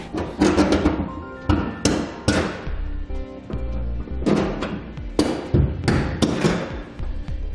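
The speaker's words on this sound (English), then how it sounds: "we can slide our U-bolts down." Metal U-bolts sliding and knocking through drilled holes in a 2018 Ram 2500 truck bed while a B and W Companion fifth wheel hitch is installed, a series of sharp clanks, taps and thuds at irregular intervals, close and fairly loud.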